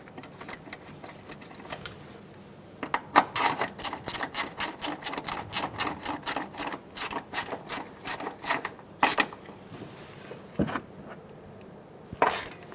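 A ratchet wrench snugs down the bolt on a front-wheel ABS bracket of a 2007-2011 Toyota Camry, giving a long run of quick, close metallic clicks in bursts with short pauses between them and no talking.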